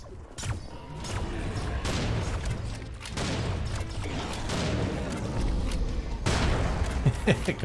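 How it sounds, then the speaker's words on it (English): A double-barrel shotgun fires in Serious Sam: Siberian Mayhem, with heavy booming blasts amid dense, chaotic combat noise, mechanical reload clatter and crashes throughout. "Double barrel shotgun"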